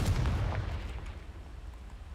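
A Confringo fire spell from a video game goes off in one deep, heavy blast that rumbles close and loud, then fades away over the next two seconds.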